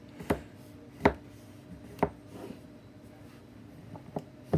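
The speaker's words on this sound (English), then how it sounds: "Basically, you're just cutting it into bars." A knife slices through a pan of baked peanut butter bars, giving about six sharp, crisp cutting strokes spaced roughly a second apart, close and clear against a quiet room.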